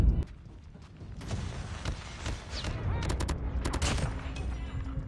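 Bursts of M4 SMG fire in the mobile shooter Call of Duty Mobile crackle through the middle and end of the stretch, with game ambience around them and a player talking over parts of it.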